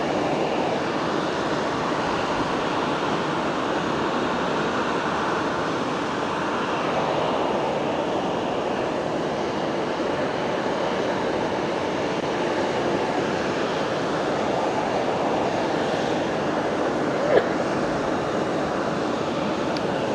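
A Skymark airliner arrives at Fukuoka Airport, a broad, steady jet roar filling the whole stretch at moderate level, with no talk and one brief click near the end.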